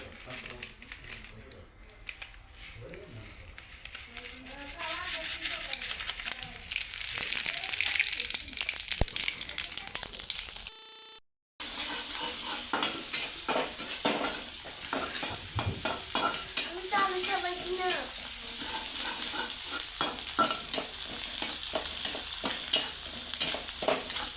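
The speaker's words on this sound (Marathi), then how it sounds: "तेल गरम करायला ठेवलं आहे का त्याच्यात कडीपत्ता टाकते" Curry leaves crackling in hot oil, a bright sizzle with sharp pops and stirring scrapes that swells after a few seconds, briefly cuts out, then resumes under intermittent talk.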